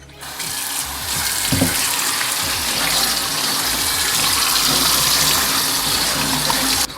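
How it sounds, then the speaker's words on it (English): Stainless steel wok rinsed under a running tap, a loud, steady gush of water striking metal, with a brief knock near the start and occasional clinks as the pan is moved. "So what I'm doing now is rinse it."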